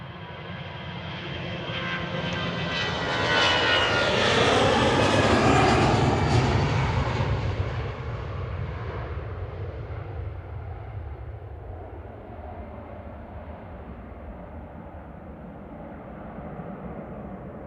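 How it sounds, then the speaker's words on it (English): An EasyJet jet airliner takes off from runway 23 left at Manchester Airport, its engine roar swelling to a loud peak as it passes, then fading into a lingering distant rumble. "On the roll on 23 left, we've got EasyJet heading off to Porto"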